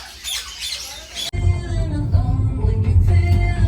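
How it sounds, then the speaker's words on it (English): A baby yellow-naped Amazon parrot gives a harsh, loud squawk at close range, followed by lower chattering sounds over a steady background rumble. "So here is our parrot, and he's coming home with us. It is a yellow nape."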